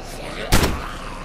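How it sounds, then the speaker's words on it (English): A single heavy boom from a video game explosion or gunshot cuts through steady loud background game noise, brief and forceful. "you can watch out for exploding vehicles when you shoot them"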